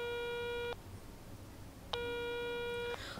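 Phone call tone after asking Siri to dial on a mobile, two clear electronic beeping tones separated by a short pause, heard alone and fairly quiet.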